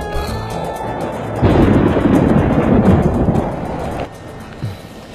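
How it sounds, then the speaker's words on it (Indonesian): A thunderstorm with rain breaks out outdoors: a heavy, broad rumbling roll swells for a couple of seconds over a steady hiss and then subsides, with a softer thud near the end. "Hujan?"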